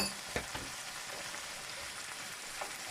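Soft, steady sizzling of saltfish and chocho frying in a little oil in a pan, with a couple of faint clicks and pops, quiet and close.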